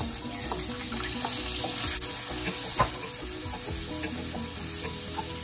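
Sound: sautéing onion in oil used for frying fish

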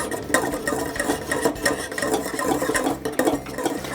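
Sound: stirring cocoa pudding in a pot

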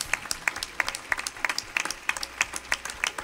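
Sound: congregation applause for the Lord

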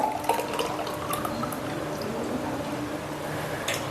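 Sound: pouring juice into a glass

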